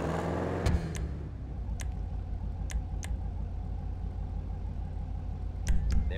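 A tuned Sabre Turbo car in GTA Online idles with a steady, low, rumbling hum. A few sharp clicks sit over the engine.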